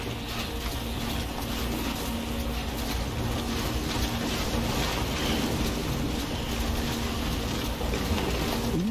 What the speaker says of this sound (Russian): Блин, ветрило.